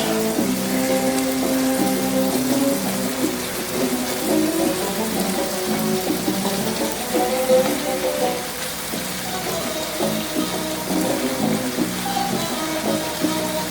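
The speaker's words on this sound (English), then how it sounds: "I'm just going to add in the rice like this." Rice goes into a hot frying pan for chicken fried rice, giving a steady sizzle and crackle throughout with some scraping clatter, fairly close and even in level.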